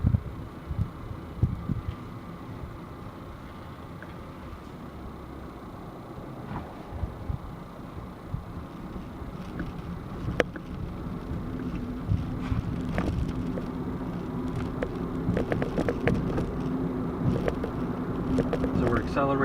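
A Mitsubishi i-MiEV electric car accelerating to around 60, heard from inside the cabin: soft road and wind noise slowly builds with scattered bumps, and voices talk quietly over it.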